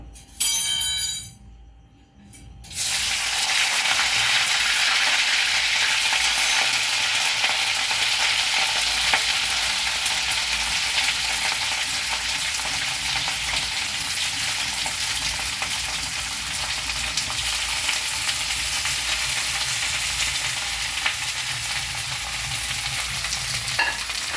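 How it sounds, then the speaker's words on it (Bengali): After a brief quiet moment, mixed vegetables drop into hot refined oil and burst into a loud, dense, continuous sizzle that stays strong and steady right next to the pan. "তেলের মধ্যে আমরা একে একে সবজিগুলো দিয়ে দেব"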